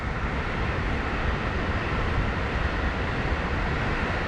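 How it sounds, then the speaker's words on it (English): A long train passes in Osaka, Japan. Its close, loud and continuous rumble roars steadily throughout, with no voices. "It's a long train."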